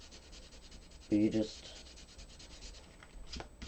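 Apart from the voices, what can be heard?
sanding eraser rubbing ink off a card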